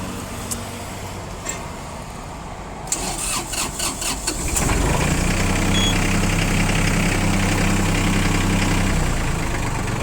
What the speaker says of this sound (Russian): По запуску трактора смотрим